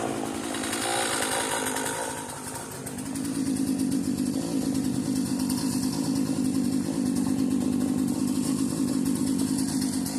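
A cheap modern chainsaw engine runs continuously nearby, buzzing loudly with a brief dip in revs before settling into a steady roar.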